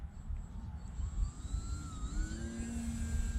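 FT Legacy radio-controlled model airplane flying in a park, its electric motor giving a steady whine that rises and falls in pitch as it passes, over constant outdoor wind rumble.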